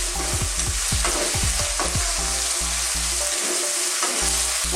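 Shrimp and carrots frying in a hot pan for Pinoy sizzling gambas, a constant loud sizzle broken by a quick run of rhythmic spatula scrapes and stirs, then continued frying hiss, no talk.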